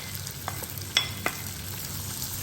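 Onion, garlic and chili go into melted butter in a pan for a vegetable lasagna, giving a soft, steady sizzle broken by a few sharp clinks and scrapes of stirring.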